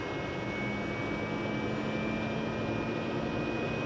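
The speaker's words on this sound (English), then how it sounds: "Now it's going to wind back down as the engine gets rotation." A TBM 940 turboprop engine starts up with a steady, loud, continuous roar and a sustained high whine as it spools through the start, with no talking.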